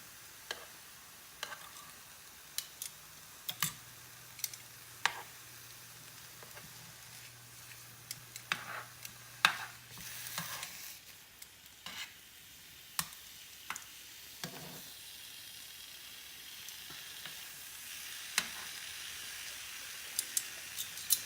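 Pork chops sizzle and crackle in a frying pan after being flipped, a steady hiss dotted with sharp pops and ticks, fairly close and with no talking.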